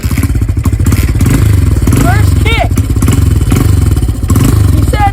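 A dirt bike engine kicks over and revs in the cold, a loud steady pulsing rumble that rises and falls throughout, with a few squeaky mechanical chirps riding on top near the rider.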